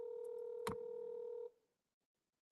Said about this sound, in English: Now, Kitty Cat, I'm calling your ass.